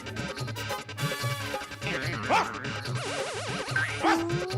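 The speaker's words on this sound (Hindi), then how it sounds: "आपके घर कुत्ता भी है?" A dog barks in a short series of yips and bow-wows within a sitcom household scene, layered over bouncy comedic music and sound effects.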